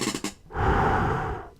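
Voice imitating the breathing of Nightmare from the FNAF 4 video game: a short sharp gasp followed by one long, rasping, close-up exhale, loud and breathy, alone.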